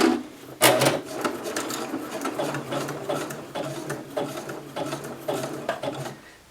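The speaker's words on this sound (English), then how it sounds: "all you're going to do is zigzag over the cord" Sewing machine running a zigzag stitch over a cord while gathering fabric, producing a steady, loud, close mechanical chatter with a regular rapid rhythm that lasts the whole time and stops abruptly at the end.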